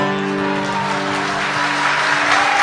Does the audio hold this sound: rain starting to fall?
no